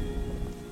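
Rain pours steadily in a Bengali cartoon fairy tale, a brief, even hiss of falling drops with no voices over it.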